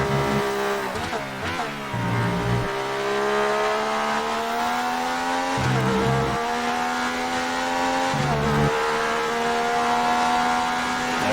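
An old Ferrari race car in the F1 2019 video game drives hard and stays loud throughout, its engine tone rising steadily through each gear, with sharp upshifts at regular intervals. No one speaks.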